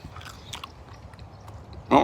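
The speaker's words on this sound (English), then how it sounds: "I don't know if you can hear it crunch." A bite into a crispy-skinned smoked chicken wing from a drum smoker gives one loud, close crunch near the end, after a quiet stretch of faint mouth noises.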